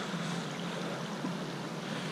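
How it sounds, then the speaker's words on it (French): A small waterfall flows under the stone Pont des Tuves near Montauroux, giving a steady, unbroken rushing wash of water with no voices. "cette petite cascade d'eau"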